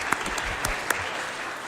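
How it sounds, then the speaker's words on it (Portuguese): Applause from a solemn session audience welcoming a deputy to the floor, a steady wash of many hands clapping at moderate distance with a few sharper claps standing out, continuing throughout. "com a salva de palmas, a gente recebe Vicentinho para fazer uso da palavra"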